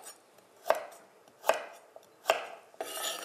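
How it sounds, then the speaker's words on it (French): A knife chops carrots on a cutting board in three sharp, evenly spaced strokes, close and clear, followed by a brief soft rustle; no voices. "Alors, je vais couper maintenant mes carottes"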